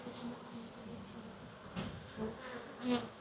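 A steady swarm of honey bees buzzing nearby, a continuous drone with a few louder passes rising and fading close by.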